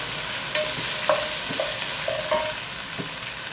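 Onions, ginger and garlic fry in a generous amount of oil for chicken biryani, giving a soft continuous sizzle broken by a few short scraping stirs, with no one talking.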